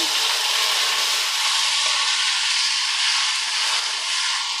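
Tomatoes hit a hot tempering of hing tarka in the pan and sizzle loudly, a dense, steady frying hiss that stays close and even throughout without any talking.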